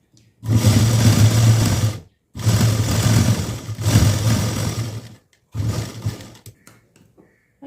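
An electric sewing machine stitches a blouse lining in three loud, sustained bursts, with short silent pauses between runs, followed by a briefer fourth run.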